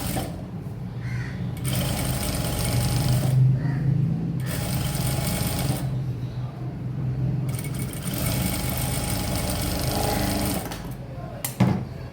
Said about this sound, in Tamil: இப்போ என்ன பண்ண போகிறோம்னா இப்படி திருப்பி அந்த ஒரு டாப் ஸ்டிச் போட்டுக்க போகிறோம்